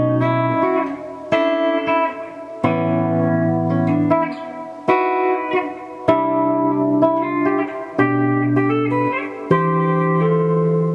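Electric guitar plays a slow chordal passage, clean sustained chords struck one after another in a steady sequence, close and clear with no speech.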